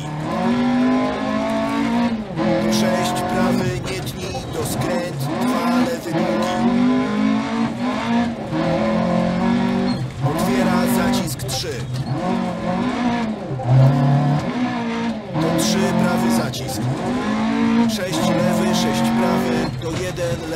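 A rally car in Dirt Rally 2.0 on a stage in New Zealand, with its engine revving hard and continuously. It rises and falls through gear changes, with brief skids, while someone talks.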